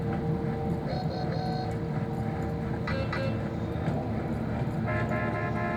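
A few short car horn toots rise over constant traffic and road noise in a busy outdoor street, moderately loud and brief, with no talking.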